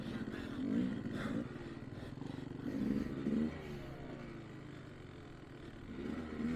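A Kawasaki KDX 200 two-stroke dirt bike engine heard while riding, a faint, rough buzzing drone that rises and falls as the throttle and gears change.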